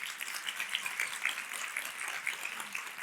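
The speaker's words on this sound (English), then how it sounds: "Give them a round of applause as well" Audience applause in a talk on brain health, a steady dense patter of many hands clapping at moderate distance for the full three seconds with no speech over it.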